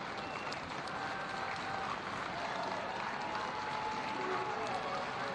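Hong Kong supporters stand and applaud at a rugby match at the Hong Kong Football Club, with a steady wash of distant crowd clapping and murmur across a packed ground and nothing standing out above the broad noise.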